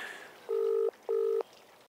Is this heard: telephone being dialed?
yes